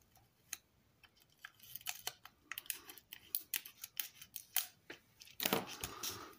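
Scissors snip material for a dollar store sign craft, a series of sharp, close clicks and crisp cuts that quicken toward the end, with soft handling noise between them.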